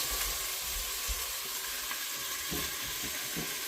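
Beef browning in hot oil for Hungarian goulash, a steady close sizzle and crackle that holds throughout with a few soft bumps of movement in the pan.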